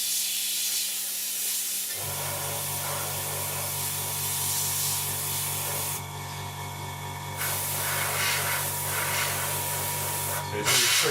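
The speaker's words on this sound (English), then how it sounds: "it's really tricky holding and spraying at the same time" Airbrush or spray paint hissing steadily onto a Revell 1/72 scale Transall aircraft model, a broad continuous spray that starts after about two seconds and runs close and loud, with brief breaks in pressure and faint background noise.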